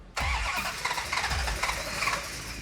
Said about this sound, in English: When you hear an engine crank so easily and it doesn't quite want to fire